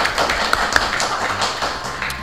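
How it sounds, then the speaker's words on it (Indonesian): Audience applause at an official anniversary event for the deputy mayor of Blitar, a steady wash of many hands clapping at moderate distance with a few sharper claps standing out, and no talk. "Boleh tepuk tangannya"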